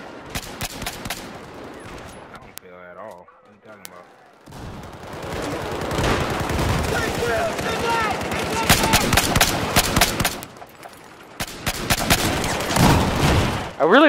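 DMR rifle fire in Battlefield 4: loud, close shots in quick rapid strings, with several bursts separated by short pauses and distant battle noise between them.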